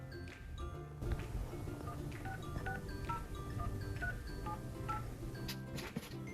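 Telephone keypad tones beep in quick succession, short pitched blips layered over background music, repeating throughout at moderate volume.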